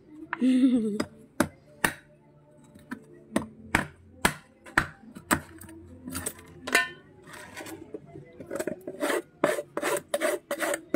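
Hands are rubbed briskly together against the cold, making a run of short, dry rasping strokes in an uneven rhythm. They come close and fairly crisp over a quiet background, with a brief bit of talk near the start.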